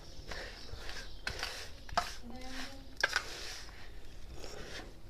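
Mango pickle being stirred and mixed in a container gives off intermittent wet scraping and clattering, with a few sharper knocks of the utensil against the side. The sounds are close and moderately loud.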